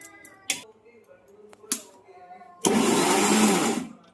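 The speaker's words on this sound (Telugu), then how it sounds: "ఇది మనం మిక్సీ జార్లో వేసి బ్లెండ్ చేస్తాను మొత్తం." A kitchen mixer grinder whirs loudly as it blends cream and curd for making homemade ghee; after a few light taps and clicks, the motor kicks in near the end and runs steadily and close, with no talk.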